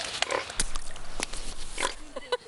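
Pigs in a muddy wallow grunt and oink in short bursts close by, with a sloshing splash partway through and no talking.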